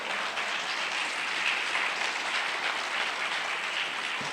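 A church congregation applauds for Christ, with an even wash of many hands clapping at moderate distance, sustained without break.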